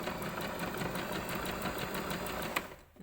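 Close, steady whirring and rapid needle ticking of a sewing machine sewing an appliqué stitch on a fabric pencil case, running evenly before stopping with a small clunk near the end.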